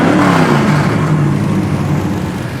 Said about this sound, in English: There's your exhaust cutouts